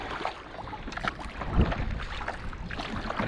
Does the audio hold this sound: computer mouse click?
no